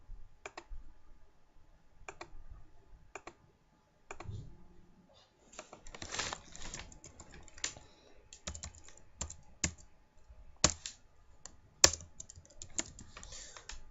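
Computer keyboard keys tap in scattered bursts while text is typed into a text box, soft close clicks with short pauses, then a quicker run of keystrokes and a few sharper clicks.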